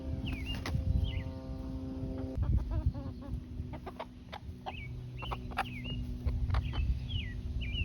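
Black sex-link chicken clucking close by, with short repeated clucks and higher calls from other birds around a backyard flock, steady throughout with no talking.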